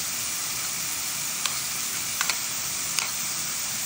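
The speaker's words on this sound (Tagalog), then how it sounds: "Nilagay ko na yung garlic dito sa butter at add ko na rin itong" Garlic and parsley sizzle steadily in melted butter in a pan, a constant close hiss with a few brief crackles and stirring clicks standing out, and no voices.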